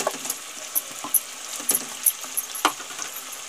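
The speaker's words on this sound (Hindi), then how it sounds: "अब इसी में हम ये प्याज डाल देंगे" Onions dropped into hot butter in a pan sizzle steadily, with scattered clinks and scrapes of a spoon stirring, quiet and close with no talk.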